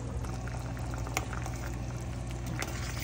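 Pork menudo boils in a pot on the stove, with a dense, steady bubbling simmer close up and occasional sharper pops, and no talking.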